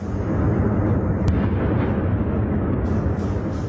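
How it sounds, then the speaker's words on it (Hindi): Bombing in Kyiv at night: a dense, continuous roar of explosion rumble fills the scene, loud and unbroken, with a faint sharper crack partway through. "यूक्रेन की राजधानी कीव में देर रात से बमबारी हो रही है।"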